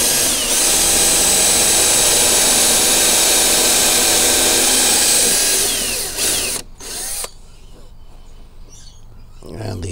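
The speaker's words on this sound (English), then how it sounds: "I will drill through them." Power drill boring through cleaned-up old metal parts during a 1941 Fisk Radiola model 276 restoration, a loud steady whine for about six seconds that cuts off abruptly, leaving quieter background with faint bird chirps.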